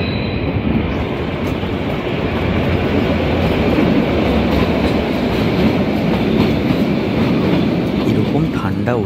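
The Kalka–Shimla toy train, the Him Darshan Express through the Himachal hills, rumbles loudly and steadily from inside a carriage, its wheels clattering on the rails for the whole stretch.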